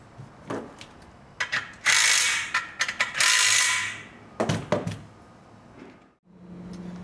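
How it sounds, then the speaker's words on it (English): Rapid ratchet clicking tightens bolts on a truck deck leg bracket, coming in bursts of close, sharp ratcheting strokes separated by short pauses. "we'll tighten down the hardware"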